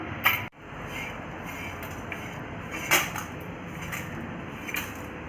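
Rock salt scraped and scooped off a new dosa tawa, a close grainy scraping with a sharp metallic clank at the start and a few later rattles, moderately loud with no talking.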